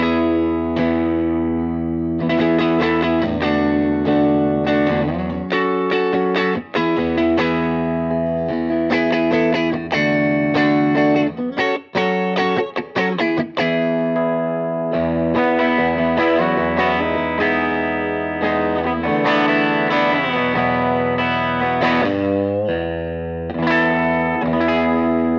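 Electric guitar played through a Fender Tweed amp, a continuous loud riffing passage with sustained chords and single notes, slightly driven with some effects, filling the whole stretch without speech.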